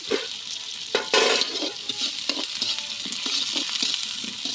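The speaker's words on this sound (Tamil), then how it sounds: "ஒரு கிலோ பீஃபு 2 பெரிய வெங்காயம் போட்டிருக்குறோம். அது நல்லா வதங்கட்டும்." One kilo of beef with two large onions sautés in a pan for a village-style meat curry, a steady close sizzle broken by scraping stirs and soft knocks, with no talk.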